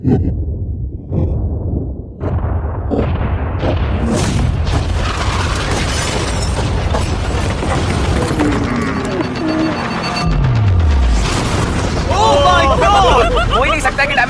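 A yacht explodes with a deep, loud boom, followed by rumbling debris and a thick wash of noise, with excited voices and crowd chatter mixed throughout.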